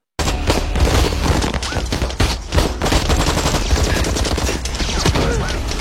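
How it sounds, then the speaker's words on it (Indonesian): A film gunfight, with dense, loud rapid gunfire and bursts of shots, some heavy booms, continuing without pause, with no clear talking. "hingga akhirnya terjadi baku tembak"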